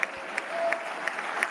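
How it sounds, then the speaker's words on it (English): An audience claps faintly and sparsely, with a few distinct hand claps landing at a fairly even pace over a quiet murmur of room noise. "I don't know why people are clapping about that"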